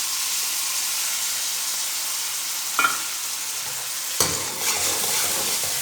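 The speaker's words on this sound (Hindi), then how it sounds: "अब इसके अंदर डाल देते हैं टमाटर।" Garlic sizzles steadily in a frying pan as a loud close hiss, with a brief clatter and then a sharp burst of fresh sizzling when tomatoes are dropped in, no voices.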